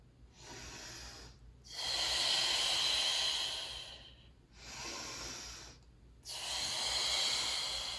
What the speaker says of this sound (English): Inhale and exhale to come back.